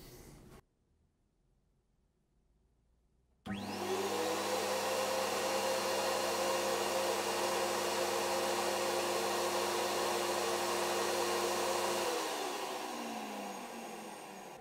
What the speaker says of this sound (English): Pretty surprised at that Qtech sound.